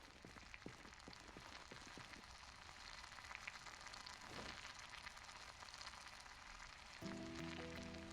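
Food crackling and sizzling as it cooks in the Project Zomboid video game, a steady soft frying hiss with scattered pops, continuing alone at low volume.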